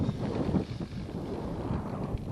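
Strong outdoor wind buffets the microphone at a model-aircraft flying field, a loud, continuous rumbling roar with no pauses.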